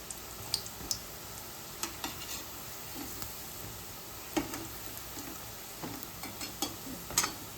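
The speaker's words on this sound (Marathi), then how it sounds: "आता हे मीडियम गॅसवरतीच आपल्याला छान असं तळून घ्यायचं" Medu vada fry in oil over a medium gas flame, a steady close sizzle punctuated by regular light clicks and taps from a utensil against the pan.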